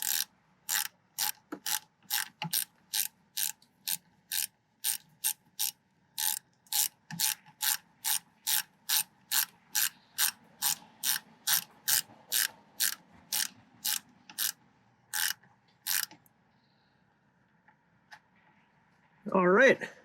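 A ratchet tightens the battery hold-down on a 2017 Nissan Pathfinder, sounding a long even run of sharp, close clicks that pause briefly midway, then stop, with a short burst of sound at the end.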